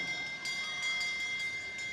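A lap bell rings repeatedly at a velodrome during a junior international track cycling race, struck in a quick regular rhythm of about three clangs over the steady background hum of the venue.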